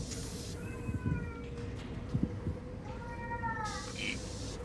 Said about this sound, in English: That's a loud cat.